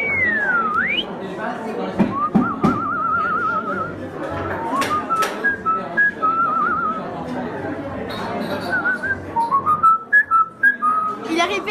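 A mynah bird whistles back a short human-taught melody, a run of clear gliding and stepped whistled notes with brief pauses, fairly close and loud, with some chatter-like calls mixed in.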